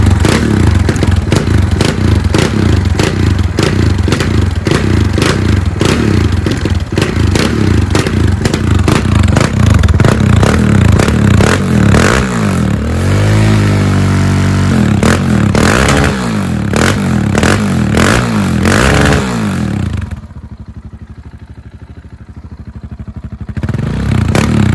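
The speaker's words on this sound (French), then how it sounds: "la moteur elle est un peu chauffée là, donc on va voir le bruit" Warmed-up motorcycle engine running loud and close, a steady rumbling idle with a couple of revs, then cutting off to near silence at the end with a brief mechanical rattle.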